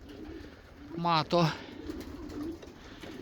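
Racing pigeon hens outside an aviary give two short, loud coos close by, with faint ambient noise and a brief spoken word nearby.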